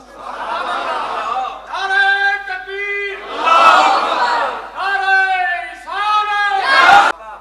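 A crowd at a religious sermon chants a slogan (naara) in rhythmic bursts. Sustained group shouts alternate with rougher calls, loud and close.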